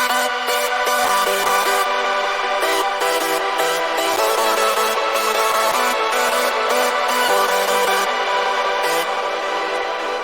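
A hardstyle synth lead layer built from square and saw waves with few voices, playing a dense, bright, sustained melodic line with choppy gating, loud and steady throughout with no talking.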